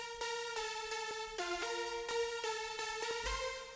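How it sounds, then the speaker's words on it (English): A dry synth lead without any effects plays a rhythmic sequence of bright, buzzy harmonic-rich notes with sharp attacks, changing pitch partway through, clean and alone with no voice, in an electronic dance track. "This is the lead without any effects on it"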